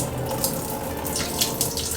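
Tap water runs steadily into a bowl of rice as the starch is rinsed off, a close continuous splashing rush with faint intermittent sloshes from the grains being swirled.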